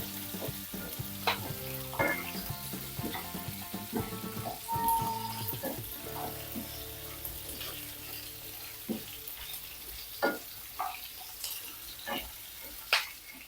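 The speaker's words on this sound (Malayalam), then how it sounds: "ഇതിനകത്തോട്ട് ഒരു 10 അല്ലി വെളുത്തുള്ളിയും 10-25 സാമ്പാർ ഉള്ളി ഒന്ന് കുറച്ച് കൊടുക്കുക. ഇതൊന്ന് ചെറുതായിട്ട് വഴറ്റിയെടുക്കാം." Garlic cloves and small shallots sizzle as they sauté in a pan for a pumpkin and green gram curry. A steady frying hiss runs throughout, with sharp utensil clinks and a sustained tonal layer in the background.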